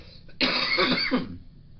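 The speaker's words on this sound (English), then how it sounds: "that was a cough just from me and myself" One harsh, breathy cough burst lasting about a second, close and fairly loud, followed by quiet.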